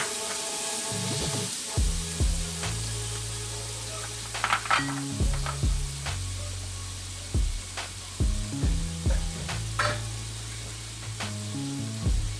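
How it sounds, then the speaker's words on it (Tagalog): Ground pork or beef with tomato and chayote sizzles in a pan after a splash of water, giving a continuous hiss broken by repeated clinks and scrapes of a utensil against the pan over a steady tonal background. "At lagyan natin ng konting water para lumambot ang ating giniling at maging ang ating"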